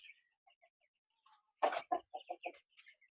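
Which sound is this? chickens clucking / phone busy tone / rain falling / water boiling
chickens clucking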